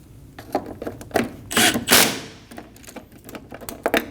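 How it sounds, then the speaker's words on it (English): Bolts on a 2012-2022 Volkswagen Passat AC condenser snugged down with a hand tool, a close run of quick clicking ratchet strokes in short bursts with a louder rasping spell midway. "we can go around and snug them all down"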